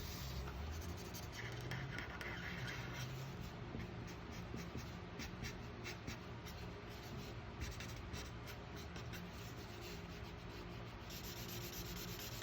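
Coloured pencil shading across paper, a steady soft scratchy rubbing of lead on the sheet, close and quiet, continuing without pause or voices.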